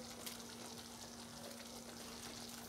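Chicken meatballs going into sauce in a pan, giving a steady, soft, close sizzle and bubbling with no pause.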